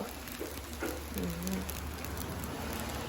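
Steady, soft rain falls in the early morning at a rural Thai farmhouse, a continuous hiss with faint patter, no voices.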